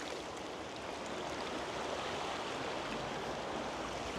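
Oak Creek in Sedona, Arizona flows past in a steady, full rush of water, a dense even wash of broadband noise without breaks or voices, close by a campground.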